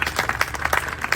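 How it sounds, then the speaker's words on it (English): A crowd claps and applauds volunteers at a gathering near the Truckee Donner Rec Department, a brief burst of scattered hand claps with faint voices mixed in. "Everyone give a round of applause for these fabulous humans."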